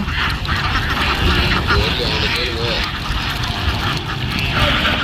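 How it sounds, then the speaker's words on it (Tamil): Ducks on a duck farm quack intermittently as the flock swims toward the bank, driven by a worker, amid steady outdoor noise; a person talks throughout. "எல்லாம் வாத்து எப்படி நீந்தி போகுது பாருங்கள்"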